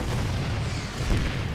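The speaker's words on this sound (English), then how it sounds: "Reapers throwing some explosions at those buildings" Reaper grenades detonate against buildings in a StarCraft 2 Terran versus Terran match, a steady low rumbling of explosions that blurs into continuous dense battle noise with no clear separate blasts.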